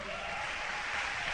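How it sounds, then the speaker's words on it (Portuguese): Church congregation applauding together in a steady, sustained wash of clapping that fills the whole moment, with no voices standing out above it. "vamos dar um aplauso ao Senhor"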